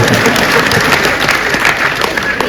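Steady audience applause at a Hindi comedy poetry recital (kavi sammelan), a dense continuous wash of clapping filling the hall, with some crowd murmur underneath.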